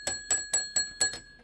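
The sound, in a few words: bell rung in a radio studio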